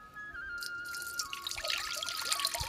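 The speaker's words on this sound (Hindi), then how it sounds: "तो मैंने कढ़ाई ले ली है, तो इसमें डालते हैं अब पानी।" Water poured from close by into a kadhai (wok) set beside an outdoor wood-fired chulha in the Uttarakhand hills, a steady splashing trickle that starts after a brief pause and runs on without speech.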